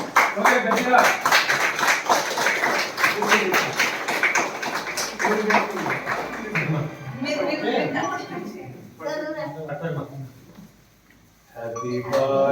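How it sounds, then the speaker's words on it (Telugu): A group claps in a rapid, bright rhythm at a birthday cake cutting at a village secretariat office in Kurnool, the applause strong for several seconds before fading, with voices talking and singing afterward. "ఒకసారి చప్పట్లు కొడుతూ మన కేక్ కట్ చేసుకుందాం"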